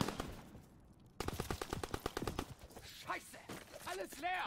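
Rapid machine gun fire in the Call of Duty WW2 shooter, a steady stream of quick loud bursts with brief pauses, mixed with shouting voices and game effects.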